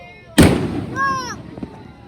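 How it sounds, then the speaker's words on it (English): A single firework blasts open nearby with a sharp, loud boom, followed by a descending whistle-like tone and crackling decay; people talk and exclaim around it. "Was that only one firework?"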